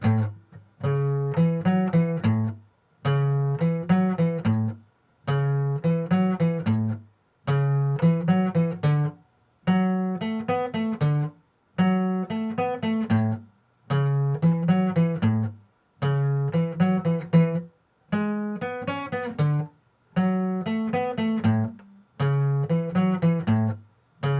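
An electric guitar plays a repeating New Orleans style blues riff in short phrases separated by brief pauses, clean and close, with no voices.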